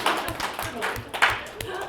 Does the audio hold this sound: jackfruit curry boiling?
no